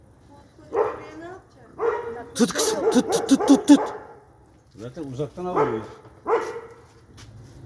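Sharp barks and yips from two dogs come in bursts, close by, mixed with people talking and calling out between them.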